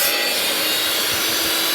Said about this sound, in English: Well, I decided to cut it on the chop saw just because, or the miter saw, just because it'd be easier.